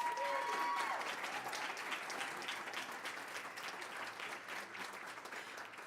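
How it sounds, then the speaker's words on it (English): Applause for a cross country coach at a school district board meeting: a very faint, distant patter of clapping from a room audience, steady and fading slightly toward the end, with a brief tone near the start. "So let's give her another round of applause."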